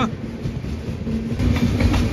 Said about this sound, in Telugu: మన పక్కన వెళ్తుంది చూసారా, సికింద్రాబాద్ గుంటూరు ఇంటర్సిటీ